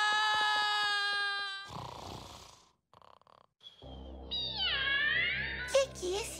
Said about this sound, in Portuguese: O que, que esse gato está fazendo aqui?